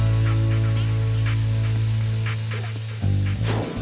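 A competitor's steam cleaner sprays steam in a steady, loud hissing jet over a low hum, then stops and restarts abruptly near the end.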